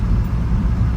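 Old London taxi under way with its automatic transmission recently topped up with fluid, a steady low engine and road rumble from inside the cab, loud and continuous.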